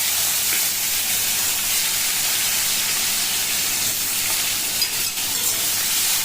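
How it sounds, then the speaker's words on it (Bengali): Rohu fish frying in hot oil in a wok, a dense, steady sizzle and hiss that stays loud and even throughout, with no talking. "এবার কড়াইতে তেল গরম করে নিলাম তো একে একে আমি মাছগুলোকে ভেজে নেবো"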